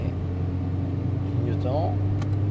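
A car accelerates on an expressway during rush hour, its steady engine hum and road rumble running throughout while a person speaks briefly over it.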